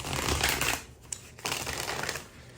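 Tarot cards are shuffled by hand up close, giving two soft, papery bursts of rustling with a brief pause between them.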